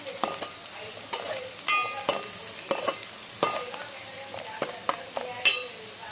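Onions frying in a pan for chicken fry give a steady sizzle, broken by repeated sharp scrapes and clacks as a spatula stirs them close up.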